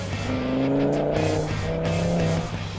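An Audi TT RS with sport exhaust engaged runs its engine, a strong, close, rumbling exhaust note with rising and falling pitch under throttle, held without pause and with no speech.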